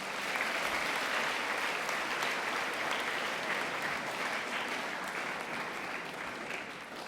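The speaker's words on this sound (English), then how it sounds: "I'd like all of the award winners to share a round of applause for family and friends" Award winners and guests at a Junior Cert Business Studies awards ceremony give a sustained round of applause for family and friends, steady dense clapping heard from a distance, tapering slightly at the end.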